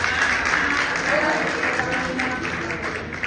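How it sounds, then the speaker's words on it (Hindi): A temple gathering in Jawahar Nagar, Jaipur, claps throughout, a dense, continuous patter of many hands that holds steady from start to finish with no break. "तालियां थोड़ा और जोर से बताइए"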